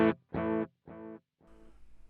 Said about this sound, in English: it's just in Mod Select 1, the analog delay, and it sounds like this